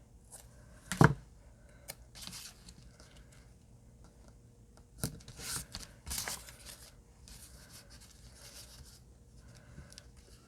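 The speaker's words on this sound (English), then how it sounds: "I gotta cut off my rounded edge." Scissors snipping the rounded edges off paper scraps, a few separate crisp cuts and rustles spread across a quiet stretch, close and fairly soft.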